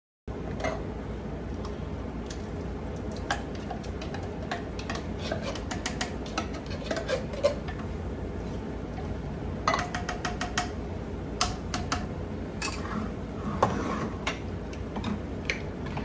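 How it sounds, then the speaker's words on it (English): Cans of chili beans and black beans being opened and emptied into a cooking pot for chili, giving scattered metallic ticks and clinks over a steady low background hum, with a denser burst of clatter midway and near the end. "I'm going to get all these cans opened and get them in my pot"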